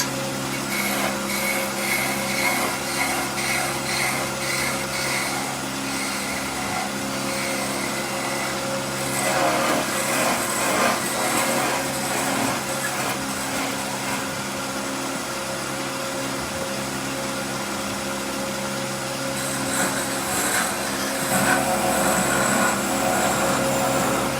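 A wood lathe spinning steadily as fishing floats are painted on it, a continuous close motor whine and hum with faint shifting tones, no talking.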